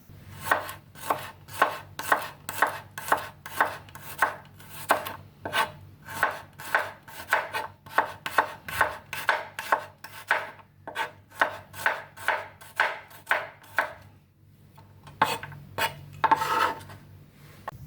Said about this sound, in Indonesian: 3 siung bawang putih, diiris-iris tipis juga.